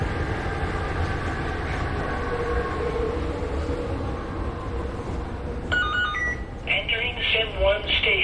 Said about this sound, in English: We are now pulling into the rail station.